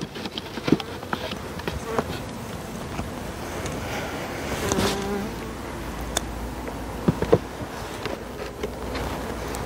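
Honeybees buzz around a small hive colony in a little breeding apiary in winter, a soft steady hum with occasional louder passes close by and light wind in the background.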